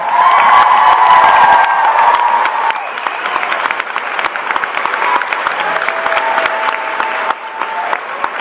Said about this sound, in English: If we could just give them a quick round of applause.